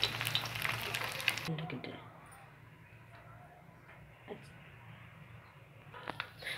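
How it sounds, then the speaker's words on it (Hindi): Two eggs frying in a pan for a quick sandwich, a soft, steady sizzle that is louder at first and then settles into a faint crackle with a few small clinks. "देखिए ये हमने अंडे फ्राई किए हैं, हम तकरीबन 2 अंडे फ्राई कर लेंगे"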